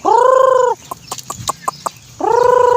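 Backyard chickens kept on a small Filipino poultry setup cluck loudly and close, long drawn calls bracketing a quick series of short clucks in between.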